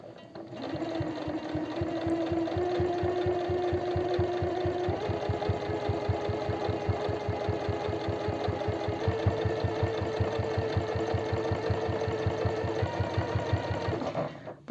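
A sewing machine runs steadily for about fourteen seconds, stitching men's jeans along a previous seam line with a rapid, even needle rhythm and a motor hum close to the microphone.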